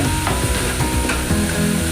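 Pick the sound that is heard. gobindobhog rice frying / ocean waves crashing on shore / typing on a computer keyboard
gobindobhog rice frying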